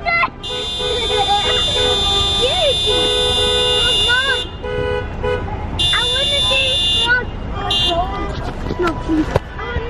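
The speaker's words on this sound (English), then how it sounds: "There's obviously a reason why they're all beeping." Car horns blare in a traffic jam on bonfire night, long sustained honks overlapping with shorter toots and tonal beeps, loud and close, with voices talking underneath.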